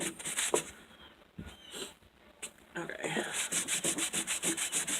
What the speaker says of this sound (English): you can actually go back and sandpaper, with sandpaper and get